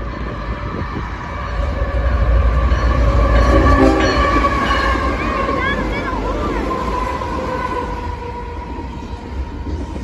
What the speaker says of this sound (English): We've had a freight train.